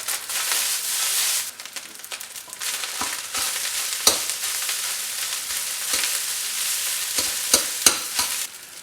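Fried rice sizzles and pops steadily in a hot pan, with bright crackling spatter, scraping stirs and occasional sharp pops, close and loud with no talk.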